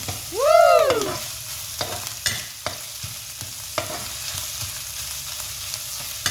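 Garlic and fresh and dried chilies stir-fried in a pan for Thai holy basil stir-fry with century egg, a loud sizzling burst at first, then steady crackling with spatula scrapes and clinks, no talk.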